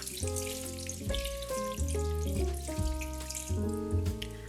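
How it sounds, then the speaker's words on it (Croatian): About 500 ml of water is poured into a hot pan of floured schnitzels, giving a continuous splashing, sizzling hiss that sits beneath steady tonal background music. "Sipala sam 500 ml vode i sad raspoređujem tako da mi što bolje legnu ove šnicle u ovu vodu"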